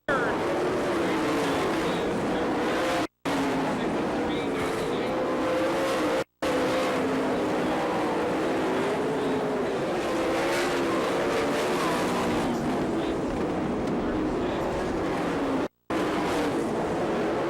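Sprint race cars racing around a dirt track at an All Star Circuit of Champions event in Florence, Kentucky, a loud continuous engine roar with rising and falling pitch as cars pass, under a race commentator's voice.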